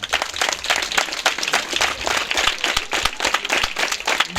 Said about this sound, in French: Et on peut l'applaudir tous.